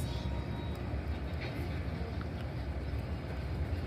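A train passing far off on distant tracks, a steady low rumble and hum sustained throughout, faint and even with no clear individual clacks, heard outdoors during a travel day with light background noise.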